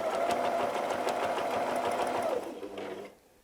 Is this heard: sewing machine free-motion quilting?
yes